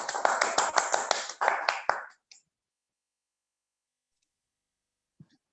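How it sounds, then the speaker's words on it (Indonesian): A small group clapping in welcome at a webinar on creative writing and personal development, close and brisk for about two seconds before fading to silence. "Tepuk tangan."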